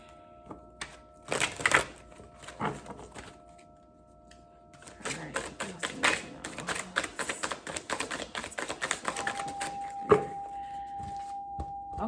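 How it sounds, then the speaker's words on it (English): A deck of tarot cards is being shuffled by hand in dense bursts of rapid papery riffling and snapping, with a few quiet pauses between rounds and a steady faint hum underneath. "let's shuffle 2 more times."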